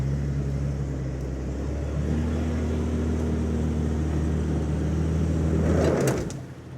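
A Jeep Cherokee XJ in four-wheel drive with an auto locker, its engine droning steadily up close, tires spinning, and a rising rush near the end before it cuts off.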